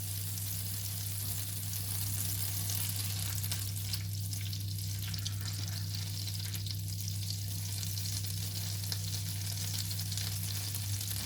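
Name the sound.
butter melting and sizzling in a pan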